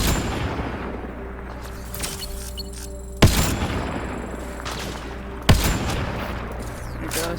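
Two sharp, loud blasts from a sniper rifle set to fire a beam in the sci-fi game Mass Effect: Andromeda, spaced a couple of seconds apart over a humming game soundscape with scattered faint battle noise.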